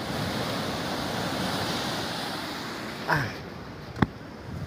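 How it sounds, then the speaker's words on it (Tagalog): Ocean waves crash steadily at a crowded beach where fish are swarming, a broad loud wash of surf with wind, and a brief shout cutting in near the end. "Yan na! Alon!"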